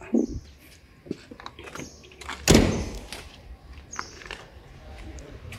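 A Ford Expedition door shuts with a single solid thump midway through, among quieter clicks and handling noises during a repair to the A/C evaporator.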